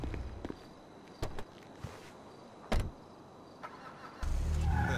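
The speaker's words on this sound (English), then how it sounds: "I'm gonna borrow a car real quick." A car being taken and started in FiveM, the GTA V roleplay mod: a few sharp door and footstep clicks, then a low engine rumble kicking in near the end, close and fairly loud with no talking.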